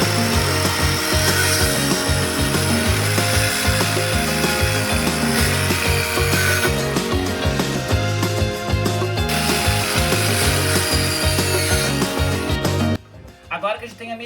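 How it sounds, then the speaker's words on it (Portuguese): A circular saw cuts reclaimed demolition wood while restoring an old desk, giving a loud, dense buzzing rip with rhythmic pulses for about thirteen seconds before the blade stops and spins down. "E eu vou utilizar a serra circular para fazer o corte, né?"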